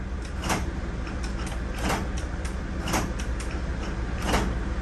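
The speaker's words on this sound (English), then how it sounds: "Slider does not open from inside or out." Stiff sliding side door mechanism on a 2005 Sprinter van that will not open from inside or out, giving repeated creaking, grinding clunks at roughly one-second intervals, close and loud over steady background noise.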